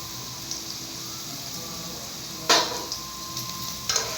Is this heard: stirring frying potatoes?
yes